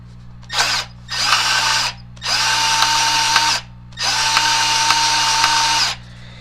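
Milwaukee sub-compact 12-volt cordless band saw powered by a 3.0 red lithium battery runs in four bursts of increasing length, a loud whirring motor with a slight cogging rattle, separated by short pauses over a low steady hum.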